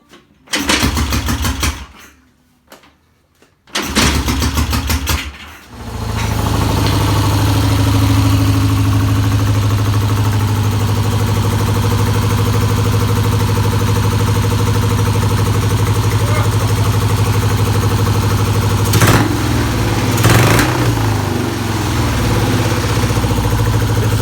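A Dodge engine runs loud and steady after a few sharp bursts at the start, holding a rough, continuous idle-like rumble with two brief surges near the end as it spits flames.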